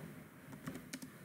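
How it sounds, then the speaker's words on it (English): A computer keyboard is being tapped, with a few quick, faint, crisp key presses in an irregular cluster over a quiet room background, and no one speaking. "I'll move down using the keyboard only."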